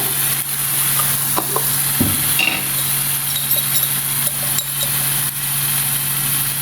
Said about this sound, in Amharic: አሁን ሶሴ በዚህ መልኩ እየበሰለልኝ ነው።